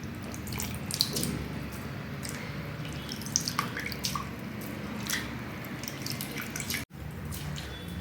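Soaked leftover rice is squeezed by hand in a kitchen, giving wet squelches with water dripping and splashing into a vessel. The sounds come in irregular bursts at close range, with no talk.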